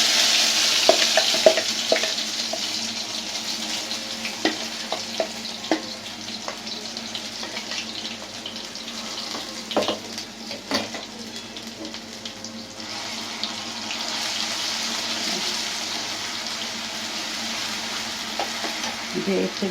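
Chilli paste made from ash gourd peel goes into hot oil with nigella seeds and fries, giving a steady sizzle with repeated stirring and clinks close by, and running water in places, with no talk.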